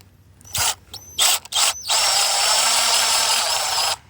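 A screw is driven through a small plastic tab on a lateral line fitting: a few short, close mechanical ratcheting bursts, then a sustained whirring run of about two seconds that stops abruptly, with no voices.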